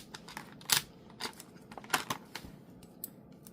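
Scissors snipping through crackle paper in short, sharp crisp cuts spaced irregularly, close and fairly clear against a quiet room with no talking.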